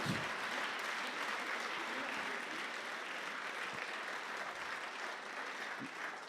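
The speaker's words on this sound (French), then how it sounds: "Alors que nous applaudissons la lauréate et" A large audience applauds steadily throughout at a ceremony for a young researchers' prize laureate, sustained dense clapping at moderate distance with no breaks.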